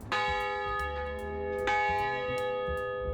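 The bell of the 1907 lightship Ambrose rings twice with a loud metallic clang, its long humming tone lingering and decaying between strikes, over a low background rumble.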